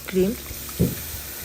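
Mushrooms fry with salt and chopped garlic for creamy mushroom pasta, giving a brief steady sizzle broken by two short, louder low bursts.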